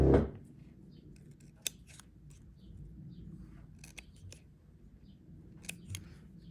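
Scissors snip through thin shrink plastic in a few faint, crisp clicks spaced apart, close by in a quiet room after a brief low thump at the start.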